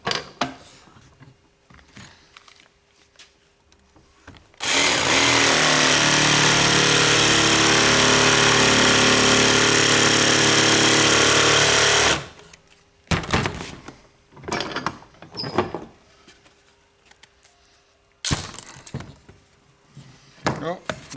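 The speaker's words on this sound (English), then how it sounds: "I've got to clean that up now with the jigsaw" A jigsaw cuts wood for saw stool feet in one loud, continuous buzzing run of several seconds, bracketed by quieter handling thumps and knocks before and after.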